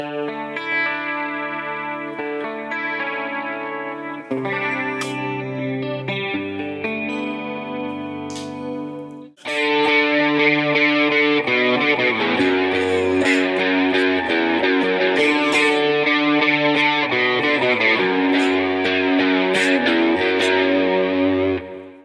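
Sustained electric guitar chords through a Line 6 HX Stomp ring out with heavy ambient reverb and a washed, lingering tail. Partway through, the tone grows brighter, denser and louder.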